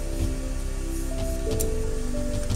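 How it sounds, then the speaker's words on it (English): A brief hiss of isopropyl alcohol spray cuts through a steady mechanical hum, short and close. "Add a nice spray of isopropyl alcohol"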